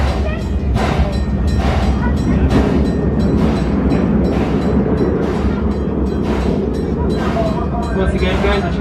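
Amusement park train at Six Flags Over Texas rolling along its rails again, a steady continuous rumble and rattle throughout, close and fairly loud, with voices in the background.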